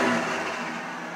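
Straight-piped 1995 Dodge Intrepid idling with a broad, steady exhaust rumble, loud and close, holding an even tone through the short stretch with no one talking.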